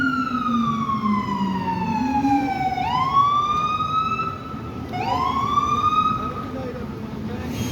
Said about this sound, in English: When you hear a siren, that means move out the way.